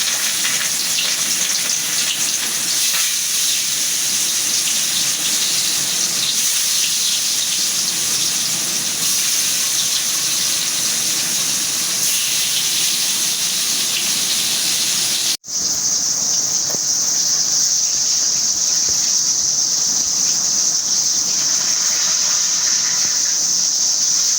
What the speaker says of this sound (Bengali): আমার তেলটা গরম হয়ে গেছে আমি এখন মাছটা দিয়ে নেব